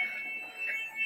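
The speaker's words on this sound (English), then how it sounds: "The alarm was triggered on the elevator." An elevator alarm rings as a steady high-pitched electronic tone, fairly faint and continuous over a low background hum.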